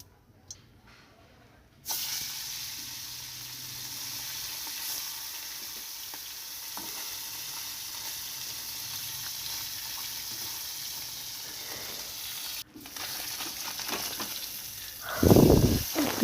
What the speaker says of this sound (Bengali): তেলটা গরম হলে মাছগুলো ভেজে নেব।